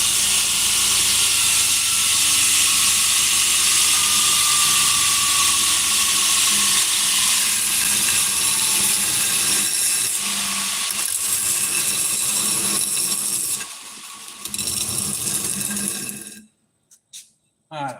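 A grinder shapes a steel knife blade with a steady, loud, hissing whine that persists for about sixteen seconds, dips briefly, then cuts out into near silence.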